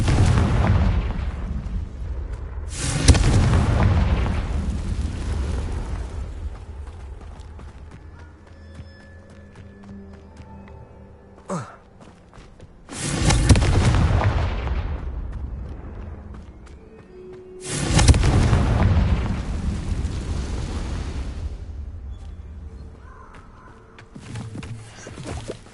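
Confringo explosive spell blasts in Hogwarts Legacy, several loud booming explosions at intervals with rumbling decay and clatter between them, no talk heard.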